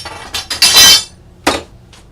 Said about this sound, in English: I'm just dropping everything